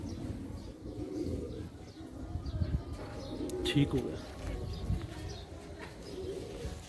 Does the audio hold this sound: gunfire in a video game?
no